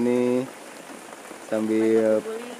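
Steady rain falls as a constant hiss beneath a voice that speaks in two short stretches.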